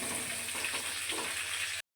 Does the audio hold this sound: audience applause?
no